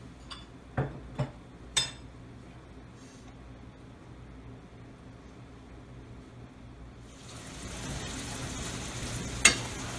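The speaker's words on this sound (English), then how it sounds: "ready to pour on the sauce that we made. And we're gonna cook this like at least between 3 to 4 minutes again." Salmon in a honey lemon garlic sauce cooks in a pan. A few sharp utensil clicks come first, then a quiet hiss swells into a louder, steady sizzle, with one bright clink near the end and no voices.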